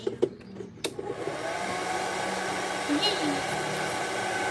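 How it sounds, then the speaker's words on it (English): A hair dryer blows steadily on a freshly bathed long-haired cat, a loud continuous whoosh that follows a few knocks and a brief spoken word at the start. "Nice and warm right out of the dryer."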